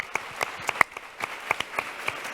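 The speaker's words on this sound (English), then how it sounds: "let's give her another round of applause" Scattered clapping from a panel audience, a handful of distinct, sparse hand claps spread unevenly across a couple of seconds, close and moderately loud rather than a full roar.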